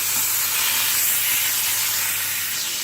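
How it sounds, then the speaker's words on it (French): Butter melts in a frying pan with a steady, close hiss and sizzle, a dense even crackle that carries unchanged throughout with no voices. "Dans une poêle, je vais mettre à peu près une cuillère à soupe de beurre."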